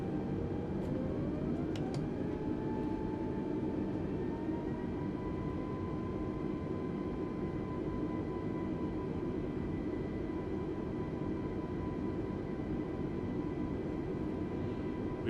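Steady, loud jet engine drone of an A320neo airliner taxiing to the runway in a flight simulator game, with a turbine whine that rises in pitch early on and then holds level throughout, no voices.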